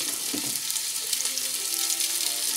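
Pork belly frying in a pan for a white bean, bacon and chorizo stew, giving a steady, dense sizzle that fills the clip close up, with a few faint spatters and no talk.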